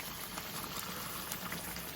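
Hot water poured over chicken in a cooking pot gives a continuous, even, bubbling wash of liquid close by, with no speech.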